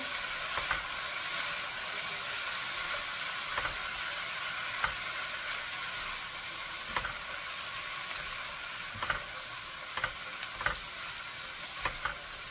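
Vegetables for Japanese yasai itame being stir-fried and tossed in a hot pan, a steady sizzle broken by occasional scraping clicks of the utensil, with no talking.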